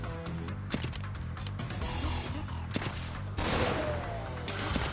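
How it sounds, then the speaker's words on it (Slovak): Projectiles bursting in the video game Give Up 2, a dense run of sharp explosive cracks and pops stacked over a steady game soundtrack, with a heavier blast near the end. "Tie strely dokážu aj vybuchnúť takto krásne, pekne."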